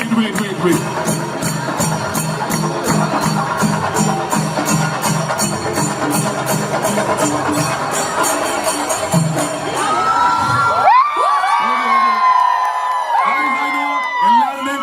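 A large crowd at a movie trailer launch at Citywalk Dubai roars, whoops and cheers loudly and continuously, with shrill shouts rising near the end and a voice speaking over the noise.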